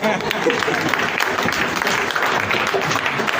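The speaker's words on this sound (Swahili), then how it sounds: "Tumpigie hata makofi, ameingia angalau." An audience claps for a speaker at an evangelism teaching gathering, giving a sustained, fairly loud wash of applause with a few voices mixed in throughout.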